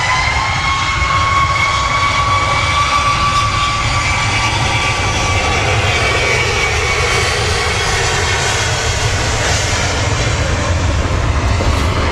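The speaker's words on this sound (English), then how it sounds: "Okay, so there's a Ryanair Max." A Ryanair Boeing 737 Max jet roars at Manchester Airport, with a loud, steady engine rumble and a high whine that holds throughout, broad and sustained, with no talk.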